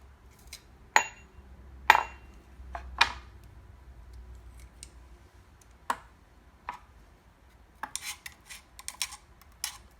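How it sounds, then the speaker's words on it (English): A knife scrapes fresh garlic off the bottom of a garlic press, giving a series of sharp metallic clicks and scrapes at irregular intervals. It is close but fairly quiet, and a quicker flurry of small taps comes near the end, with no talking. "then I take my knife and I scrape it off the bottom"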